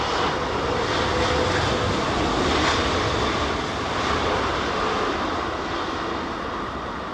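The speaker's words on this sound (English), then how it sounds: "So that's the engine that we've heard just starting up over there." Airplane engine spooling up at Heathrow airport during stormy weather, a loud steady roar with a broad whine that holds for several seconds and eases slightly toward the end.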